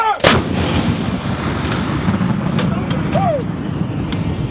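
Field artillery guns fire with a loud, sharp boom early on, followed by a long rumbling roll and distant echoes, with a few fainter reports later amid steady low noise.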